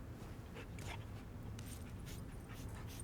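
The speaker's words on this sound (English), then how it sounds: "I can pet the dog, bro." A dog pants in the video game Remnant 2, quick soft breaths over a steady low game ambience, with faint whimpering sounds.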